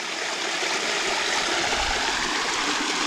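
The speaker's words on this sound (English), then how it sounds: "Probably fall asleep listening to the water." Water in a woodland stream rushes over stone in a steady, broadband wash, close and continuous, with no talking over it.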